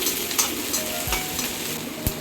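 Onions sizzle and crackle in a hot pan while a spoon stirs, scraping now and then against the metal, while cooking prawn puttu.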